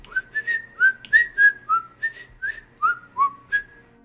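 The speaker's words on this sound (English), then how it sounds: "you will hear him whistling to himself." A man whistles a tune to himself, about a dozen clear, sliding notes in a relaxed, uneven rhythm. The whistling is near and alone over a quiet background.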